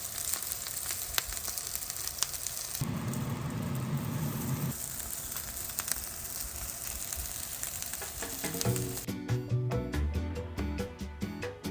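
Vegan crab cakes sizzle in a frying pan, a steady broadband crackle throughout that grows louder and denser for a couple of seconds before a final stretch of clatter and faint background tones, with no talk.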